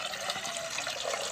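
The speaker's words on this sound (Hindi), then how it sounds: "अभी हम परिंदों को दोस्तों पानी देने लगे हैं।" Water is poured for pigeons at a farm, a steady splashing rush of liquid that continues without a break, close and fairly loud, with no talking.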